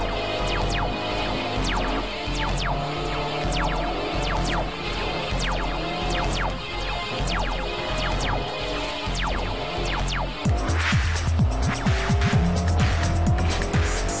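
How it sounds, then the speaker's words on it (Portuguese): A car in Forza Horizon skids with squealing tires amid engine roar and sharp repeated clicks, the screech and rumble swelling loudly near the end. "carro derrapou um pouco"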